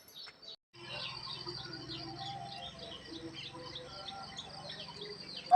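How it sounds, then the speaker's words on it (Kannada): Morning birds chirp outdoors in quick, repeated high tweets over a steady insect-like buzz, continuous and moderately close, with no talking. "ಬೆಳಗಿನ ಟೈಮ್ ಈ ಥರ ಹಕ್ಕಿಗಳ ಸೌಂಡ್"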